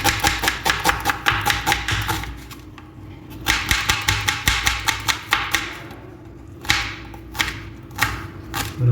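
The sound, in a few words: knife chopping onion finely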